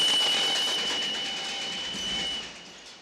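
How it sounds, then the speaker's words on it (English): Shrill, sustained whistle-like shriek of an arriving train from a Sergio Leone film opening, a high steady tone over a rolling rumble that fades slightly toward the end. "And then when the train comes, this deafening shriek."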